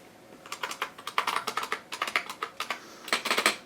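Rapid bursts of typing on a Lexmark Model M keyboard, loud crisp clacky keystrokes in quick irregular runs with brief pauses, close and alone without talk.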